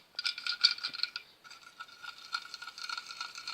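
Small plastic wheels on a toy candy cart roll and rattle across a surface in light, scratchy clicks. The sound is close and fairly quiet, with a brief pause partway through.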